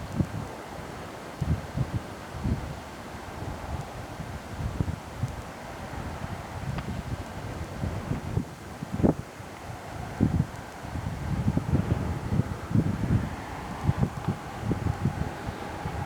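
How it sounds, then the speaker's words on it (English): Steady wind buffeting the microphone outdoors near snowy mountains and lakes at Grande Cache, a continuous low rumble with gusty bursts throughout, loud and close. "A little windy here, making my camera shake."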